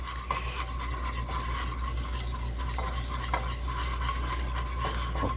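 A whisk scrapes and rattles rhythmically against a pot of cheddar broccoli soup base, quick repeated strokes over a low steady hum, close and continuous with no talk.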